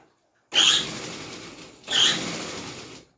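Close, loud whirring of a sewing machine stitching a bag, running in two bursts with a short pause between them and no talk.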